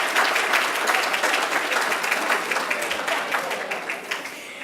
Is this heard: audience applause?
yes